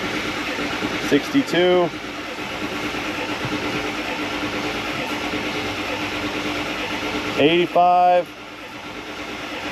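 A Ford F250 with a 7.3 Power Stroke diesel and 400,000 miles cranks over in a steady, low churning drone, with someone speaking briefly twice over the noise.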